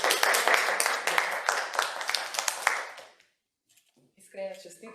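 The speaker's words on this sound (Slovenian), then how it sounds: "Zdaj pa lahko zaploskam." Applause from an audience at the Jesenko awards ceremony, a dense burst of clapping lasting about three seconds that fades to silence, followed by a brief spoken voice.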